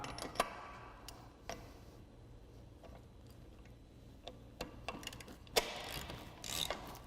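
Ratchet socket wrench turning a long caging bolt into a heavy-duty truck brake chamber, faint quick ratcheting clicks with a few sharper metallic clanks scattered through a quiet workshop background.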